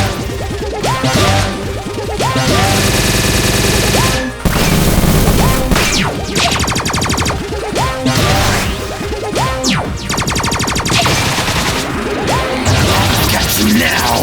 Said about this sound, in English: I can deflect the missiles with my little key.